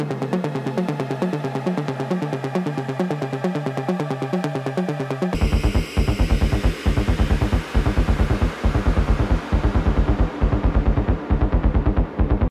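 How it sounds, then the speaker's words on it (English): High-pitched evolving synth pad built with a Monsoon module in a live electronic setup, layered over pulsing rhythmic synth hits that turn denser and brighter partway through, loud and continuous with no voices. "a high-pitched evolving pad sound he heard in one of my sets"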